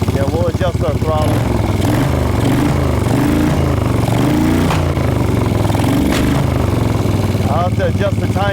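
A 1975 Moto Guzzi cafe racer engine runs loud and close while its throttle is adjusted, the pitch rising and falling in small revs, with a voice speaking over it.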